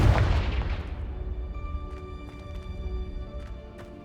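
A Confringo blast spell from Hogwarts Legacy erupts in one heavy, close boom that rolls off and fades into a faint ringing tail.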